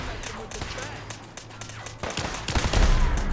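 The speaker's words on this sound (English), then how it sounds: "It's a lot of blind firing in around here." Video game gunfire in Fallout 4: scattered shots and bursts that grow louder and denser toward the end, with voices talking underneath.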